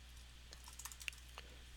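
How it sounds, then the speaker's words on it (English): Quiet keystrokes on a computer keyboard come in a short, irregular burst of light clicks, with one sharper tap standing out against a low background hum. "I'm going to try typing here"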